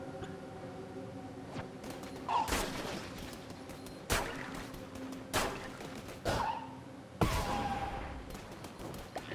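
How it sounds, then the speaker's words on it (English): Gunfire in Cult of the Lamb as enemies are shot down: several sharp, loud shots spaced a second or two apart over a steady game background, each shot followed by a short decay. "As I shoot everyone that I can, I try and even pierce them"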